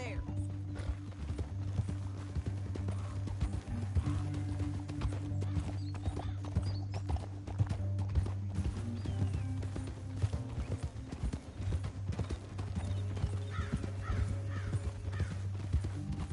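In the video game Red Dead Redemption 2, horses clip-clop steadily at a trot, with occasional whinnies, under spoken character dialogue and a low background hum.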